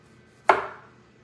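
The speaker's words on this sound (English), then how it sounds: "So I'm gonna cut up some tomato," A sharp knife slicing a tomato thin for eggplant and zucchini sandwiches, a single crisp chop against the board with a short fading tail, close and alone.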